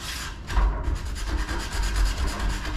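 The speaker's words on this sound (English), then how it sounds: "The hand sander works too." Hand sander rubbing over wood trim, a close, steady raspy scrubbing in repeated back-and-forth strokes, with no voices.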